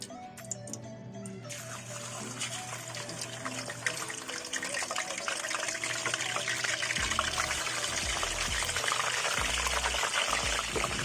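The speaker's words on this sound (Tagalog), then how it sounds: "pag mainit ng mantika, ilagay na natin ang liempo." Pork belly liempo hits hot cooking oil in a pan, a dense, steady sizzle and crackle that builds and stays loud throughout, with a low hum underneath and no talking.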